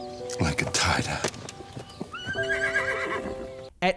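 A horse in a Super Bowl Tide commercial neighs loudly while hooves clip-clop nearby, mixed with spoken dialogue and other ad sounds, ending in a sharp burst.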